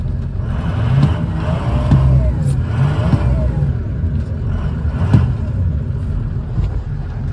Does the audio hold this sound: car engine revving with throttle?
yes